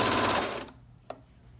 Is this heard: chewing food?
no